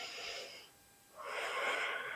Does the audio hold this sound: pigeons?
no